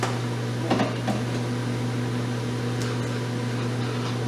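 A microwave oven heats food with a steady, even electrical hum and drone, with a couple of faint clicks early on and no voices.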